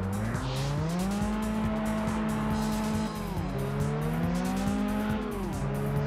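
Loud engine drone and sliding tire squeal as a car spins out in Test Drive Unlimited on PS2, pitch swooping and wavering over a rapid ticking rhythm for several seconds.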